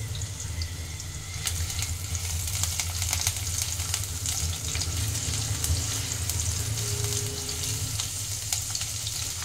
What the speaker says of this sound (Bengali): এবার এতে আমি রসুন কুচিটা দিয়ে দেব, একদম যেমন চিলি চিকেন করে সেই রকমই